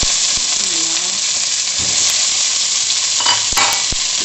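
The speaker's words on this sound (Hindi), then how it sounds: "चिकन ऐड करके हम इसको मिक्स करेंगे।" Chicken is added to onions frying in oil in a handi and stirred, giving a steady loud sizzle with scraping and clanks of a spoon against the pot, and a brief voice in the background.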